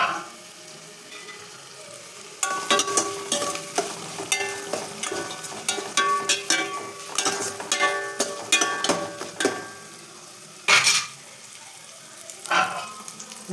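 Vegetables for vegetable rice stirred and sautéed in a pan, a steady sizzle broken by a quick run of loud scraping and clattering stirring strokes, then a few isolated scrapes near the end.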